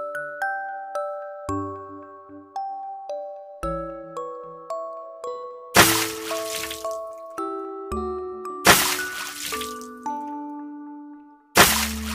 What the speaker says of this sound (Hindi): सबसे पहले इन्हें पानी के टब में बिठाएंगे।